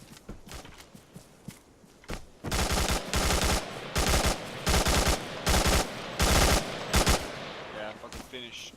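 Automatic machine gun fire in the Modern Warfare video game: a few scattered shots, then a run of loud, close, sustained bursts separated by short pauses.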